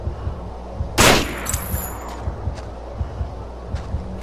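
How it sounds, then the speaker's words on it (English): A single loud gunshot blasts a lock in Manhunt, a sharp crack with a short ringing tail, followed by quieter scattered footsteps and faint thuds. "Now shoot the lock."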